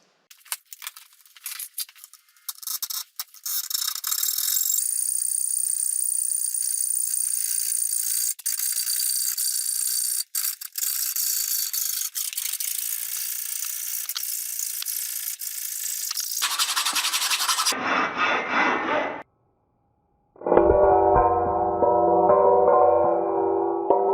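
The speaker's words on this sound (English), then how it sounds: "now to cut this with a hacksaw" A hacksaw cuts through metal pocket door hardware with scraping, rattling strokes. The sound starts in irregular bursts, becomes a sustained rasp, pauses briefly, then resumes at a lower pitch, all close by with no speech.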